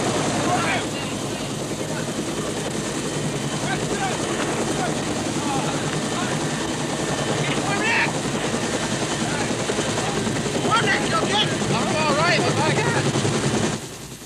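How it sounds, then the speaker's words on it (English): A military aircraft, apparently a helicopter, taking off: a continuous loud rotor and engine roar with rhythmic chopping runs throughout, under tense shouted speech and radio-style talk. "Now the takeoff, another hazard."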